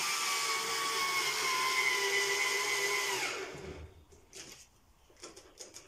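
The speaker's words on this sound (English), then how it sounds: "drilling the screws." A power drill driving screws into a frame for a DIY succulent wall garden: a loud, steady whirring whine for about three seconds that winds down and stops, followed by light clicks and handling noises.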